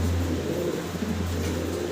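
Low, soft cooing from fancy pigeons rumbles steadily through a brief moment, close by and continuous, with no talking.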